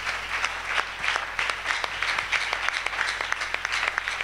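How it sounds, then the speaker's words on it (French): A church congregation claps together in steady, rhythmic applause, a close and continuous patter of many hands with no break. "Acclamons le Seigneur Jésus-Christ."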